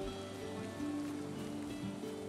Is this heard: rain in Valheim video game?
yes